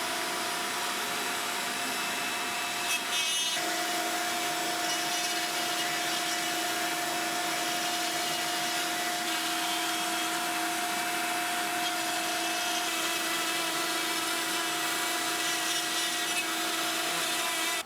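Onefinity CNC router cutting a test piece in wood, a steady broadband whir and rasp with a sustained tonal whine, continuous and fairly loud from start to finish, no voices.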